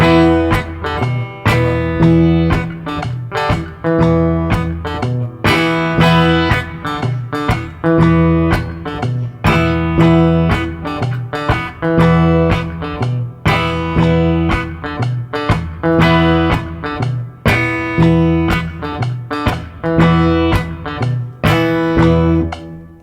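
Acoustic guitar playing the full two-measure phrase of a song, a driving, repetitive blues riff with percussive strummed chucks, loud and close throughout.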